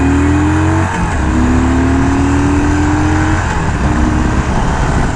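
A Harley-Davidson Iron 1200 Sportster motorcycle accelerates hard through the gears, its engine roaring loud and close in a steady, unbroken rising drone for several seconds.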